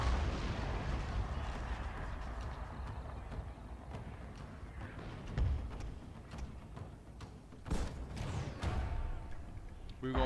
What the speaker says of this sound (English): saw that guy took a tumble as the cannon shot rolled through them